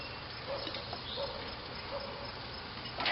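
Bees buzz in a nest inside a board, giving a steady, dense hum that stays moderately loud and close for the whole stretch. Nobody speaks.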